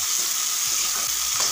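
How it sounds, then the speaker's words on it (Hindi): Onions fry in a pan with a loud, steady, close hiss of sizzling oil, and a few faint low knocks from the pan. "थोड़ी देर ना प्याज को पकने के लिए छोड़ देते हैं"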